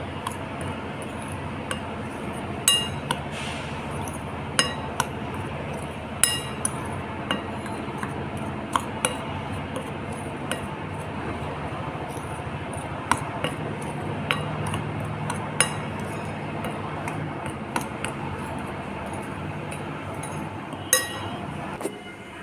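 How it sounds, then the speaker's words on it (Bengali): Dry baking ingredients mixed with baking powder are stirred in a bowl, giving a faint continuous scraping with scattered light clinks of a utensil against the bowl, fairly quiet and without any speech. "এখন শুকনো উপকরণগুলোকে ভালো করে মিশিয়ে নেব ভালো করে মিশাতে হবে"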